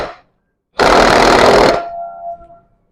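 A power tool tightening clutch plate bolts on a motorcycle, a single loud buzzing, rattling burst of about a second, followed by a brief fading whine and quiet.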